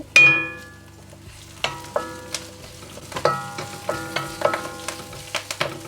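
Onion, green chili and curry leaves sautéing in a pan: a ringing metallic clang opens, then a steady sizzle runs under repeated close spatula scrapes and taps that quicken toward the end.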